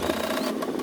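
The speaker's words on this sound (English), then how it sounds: "Then, stitch color number 16 to fix it in place." An embroidery machine stitching an appliqué into felt for a quiet book, with a fast, steady, close mechanical whirring and rapid needle chatter that never pauses.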